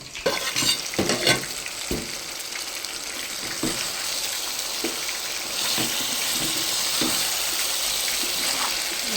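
Chicken pieces fry in ghee in a pot for homemade biryani: a few scraping stirring strokes come first, then a steady, hissing sizzle settles in, close and without voices.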